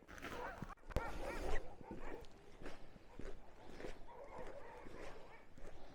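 Huskies in snowy Troms, Norway, bark, yip and whimper excitedly before sledding, close by, in a restless overlapping chorus with scattered footsteps in the snow.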